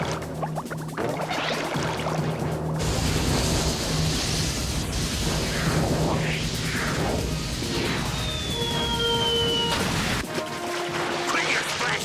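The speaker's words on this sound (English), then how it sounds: "Quit your splashing in my face." Water splashes in a Woody Woodpecker surfing cartoon, a busy, sustained wash of sloshing and spray mixed with cartoon voices and effects throughout.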